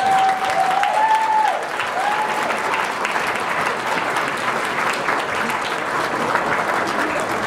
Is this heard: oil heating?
no